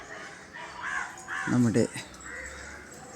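Crows caw in the early morning outdoors: a few hoarse, harmonic calls, one loud and close midway, with fainter cawing earlier, heard alongside a person speaking.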